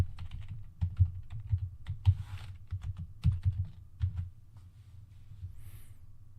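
Someone types a password on a computer keyboard, giving a quick, uneven run of crisp key clicks up close, with short pauses between bursts.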